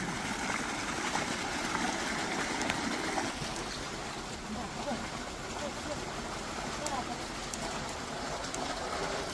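Water sprays from a hose nozzle meant for car washing, a steady broadband hiss and patter running throughout the whole stretch, with voices faintly present under it.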